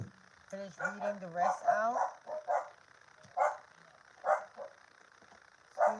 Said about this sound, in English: Excuse my dogs, guys.